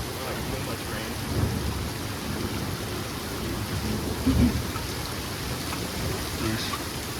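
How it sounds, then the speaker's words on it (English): A passing thunderstorm with heavy rain pouring steadily throughout, while low thunder rumbles swell briefly near the start and again more strongly in the middle, with some faint background voices. "Lightning and downpour"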